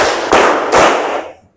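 A group claps in unison during a classroom clapping game, with two sharp, loud clap bursts about half a second apart, each followed by a short ring-out before the room falls quiet.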